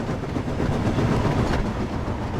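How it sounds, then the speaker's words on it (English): A train running along the track, a steady rumbling roar with faint clickety-clack of wagons, loud and continuous without voices. "The train was soon running nicely, and James began to feel confident"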